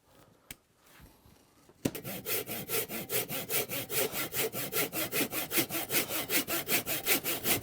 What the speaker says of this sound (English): transfer that same line on the face of the slats and cut them with a handsaw